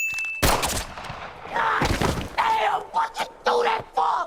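A gunshot blast in a movie scene, one sharp loud bang followed by tense film audio with groans and voices.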